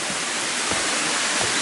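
A waterfall at a Japanese temple grounds roars as a steady, dense wash of falling water, close and continuous with no voices over it.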